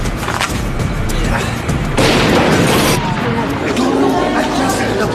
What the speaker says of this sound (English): As the grenades explode